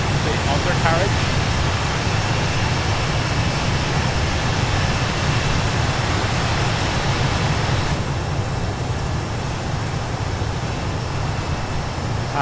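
A steady, loud engine roar from an A320 airliner climbing after takeoff in a flight simulator game, with a crosswind. It holds an even, unbroken drone of broadband rumble and hiss throughout.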